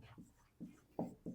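Faint, close scratches of a pen on paper come in four short strokes spaced apart, with no talking.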